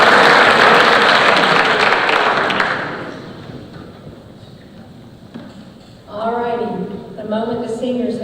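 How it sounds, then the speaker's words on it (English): Applause from the crowd at a senior awards ceremony, loud and dense for about three seconds before fading out, then a speaker's voice carries on alone over the quiet room. "So let's give them a round of applause."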